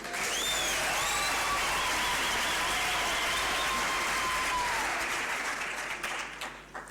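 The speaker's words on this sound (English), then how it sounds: "the choir deserves a big round of applause" Sustained applause from a graduation ceremony audience after a choir performance, a dense, even wash of clapping that holds steady and then tapers off near the end, with some whistles heard over it.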